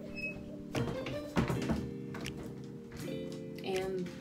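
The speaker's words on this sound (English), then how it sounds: "I can close the door." A bathroom door shuts with a soft thunk and a faint latch tap, followed by small handling knocks nearby, while someone talks over it.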